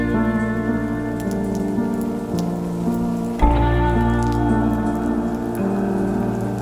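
Steady rain falls in a continuous, even wash that stays close and fairly loud throughout, with a brief louder patch midway and no voices.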